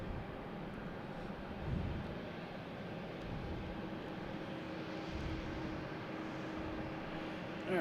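An Airbus A220 airliner at Boston Logan Airport, its faint, steady engine drone carried from some distance across the field, continuous and low in level.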